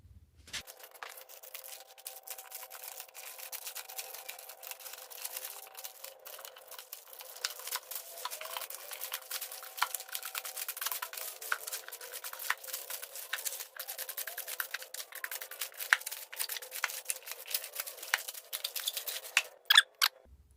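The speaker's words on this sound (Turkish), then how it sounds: "ambalajımızı söktük" Plastic packaging crinkling and rustling as a Kuba Black Cat rear bicycle tire is unwrapped, a steady close-up run of crackles and tearing that lasts throughout.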